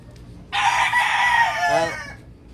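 A single loud crow from a crossbred gamecock close by, a long strained cock-a-doodle-doo lasting about a second and a half, then quiet.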